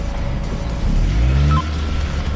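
A B-segment car is shifted into drive and pulls away, its engine rising to a steady low hum with a brief louder surge midway, heard close from inside the cabin without talking.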